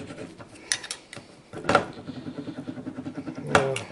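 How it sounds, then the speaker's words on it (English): An English wheel rolls aluminium sheet into a Pietenpol elevator horn, producing quiet mechanical clicks and rolling rattles with a few sharper metallic knocks spaced across a few seconds. "The English wheel, or English roller, or whatever you want to call it, is capable of making all sorts of good shapes"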